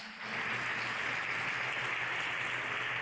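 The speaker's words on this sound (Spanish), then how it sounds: "Dar un aplauso al Señor." Church congregation applauding, a broad steady wash of clapping that swells in after a brief pause and holds evenly to the end with no voices over it.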